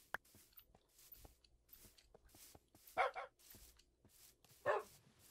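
Two short barks from a dog in a Minecraft-style survival game ring out faintly amid soft footsteps and chopping clicks, distant and sparse.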